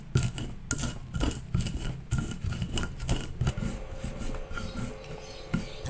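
Peanuts pounded and ground smooth in a stone mortar and pestle for a jengkol peanut sauce, giving close, repeated grinding rubs and dull knocks in an irregular rhythm, with no talk.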